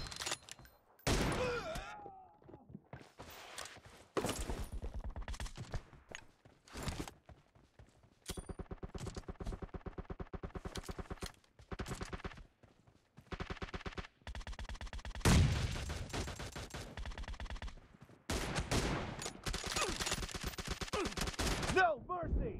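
Bursts of gunfire from the battle royale game PUBG, with rapid automatic volleys and separate sharp shots spread across the stretch, some sustained rattling runs between pauses and quieter gaps.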